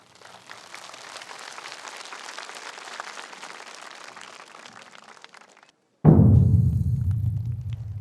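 Audience applause at a Silla Cultural Festival ceremony, a crowd's sustained clapping lasting several seconds at moderate level, then cut off by a sudden loud booming thud that slowly fades.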